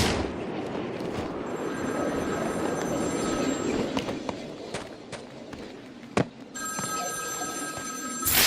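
A telephone rings in Batman: Arkham City, a repeated electronic ring heard in two stretches over a dense rumbling background of game noise, with a few sharp cracks and thuds between the rings.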